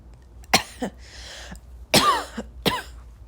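A person coughs several times in close, dry bursts, two quick pairs separated by a short pause, loud and near with little else around.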